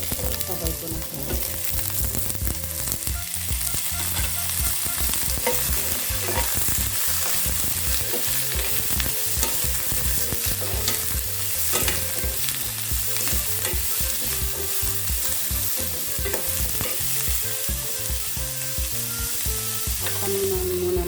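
Squash and string beans are stirred in a hot pan for ginataang gulay, a constant dense sizzle with frequent scraping and clattering stirs throughout, close and steady, with no voices.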